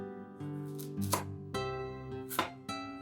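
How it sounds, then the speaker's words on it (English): A knife cuts unpeeled acorn squash into thin slices for a veggie galette, giving a few crisp cutting thuds on a board under steady background music. "I'm just going to cut this acorn squash really thinly into slices"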